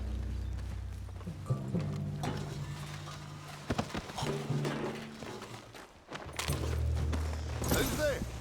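Horse hooves clip-clop in Red Dead Redemption 2 beneath steady talk, irregular thuds of a horse moving over ground along with other game noise.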